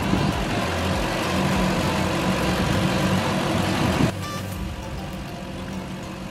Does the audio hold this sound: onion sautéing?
no